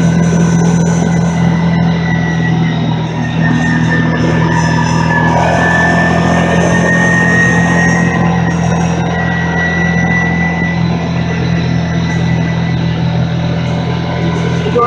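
A 2022 Kawasaki Teryx S LE 800 side-by-side drones steadily while riding at around 25 miles an hour, a loud continuous engine hum with road and wind noise and no pauses.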